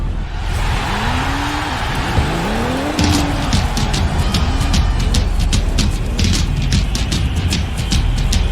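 A banger racing pace car at Stoke drives a slow lap of honour after an Unlimited National Bangers race, its engine droning steadily and loud throughout while sharp clatters and crowd noise punctuate the second half.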